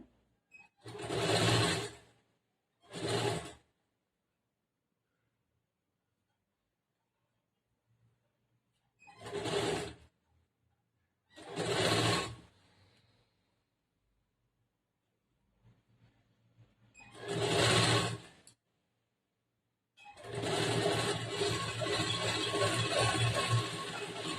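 A sewing machine stitches the side seam of a blouse in five short bursts separated by pauses, ending with a longer continuous run, close and clear with no talking.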